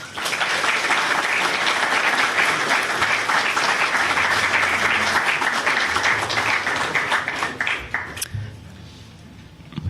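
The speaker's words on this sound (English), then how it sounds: "Let's just give them a quick round of applause for that." Audience applause at a live-streamed ceremony, loud steady clapping from a large crowd that holds for about eight seconds before tapering off into room quiet.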